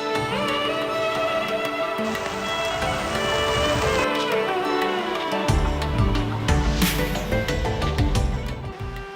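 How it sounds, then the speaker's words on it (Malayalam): Drizzling rain falls on the Madayipara hills in Kannur, a continuous patter on surfaces that carries on steadily throughout with no talking. "ചാറ്റൽ മഴയും കൊണ്ട് മാടായിപ്പാറയിലൂടെയുള്ള യാത്ര അതിമനോഹരം."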